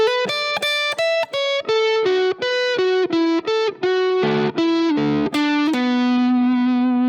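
A fast electric guitar riff from a guitar cover of a song, with a distorted, effects-laden tone, rapid picked notes running down and ending on a sustained held note.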